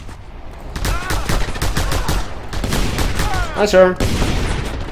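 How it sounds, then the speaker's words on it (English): Bursts of gunfire aimed at the player character in Just Cause 2 crackle in rapid volleys and separate shots throughout, mixed with game effects and a person talking over them. "Can you stop shooting me?"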